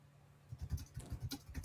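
Soft, irregular clicks of typing on a computer keyboard, quiet and close, in short bursts against a faint background.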